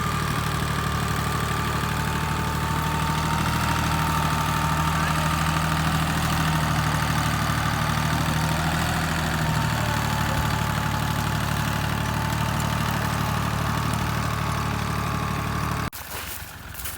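A tractor engine runs steadily during a potato harvest on black-soil farmland with a homemade potato digger, a continuous loud mechanical drone with a low rumble and no talking, shifting abruptly near the end.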